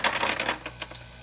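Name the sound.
ice maker dropping ice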